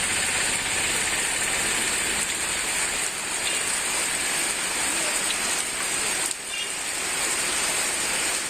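Heavy rain pouring on Yanaimalai hill at Othakadai in Madurai, floodwater cascading off the rock like a waterfall; a loud, steady, dense wash of water that runs unbroken throughout.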